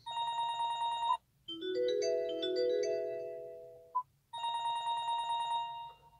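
A Mahindra Scorpio N infotainment system plays a phone ringtone, a clear electronic melody repeating in bursts with short pauses between them, alone in a quiet cabin.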